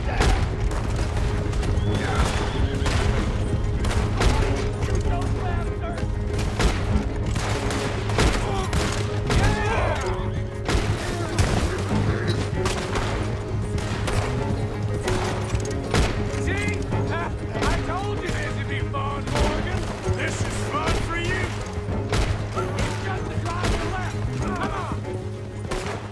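A long, relentless fusillade of guns firing during a stagecoach robbery, shots cracking over each other without pause, with horses whinnying and shouting voices mixed into the chaotic din.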